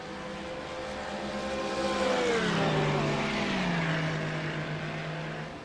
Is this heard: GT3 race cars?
yes